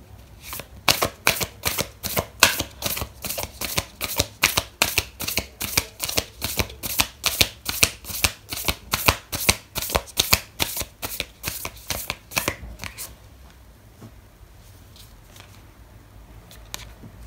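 Oracle cards are shuffled in a rapid, steady run of crisp riffling flicks for about twelve seconds, then the card handling goes quiet, with no talking.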